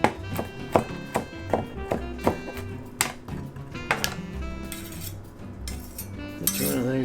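A kitchen knife mincing peeled garlic on a cutting board, a run of sharp, evenly spaced chopping taps up close that slows and turns into scraping sounds toward the end.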